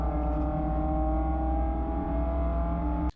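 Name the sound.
race cars crossing the finish line at Bathurst in a racing video game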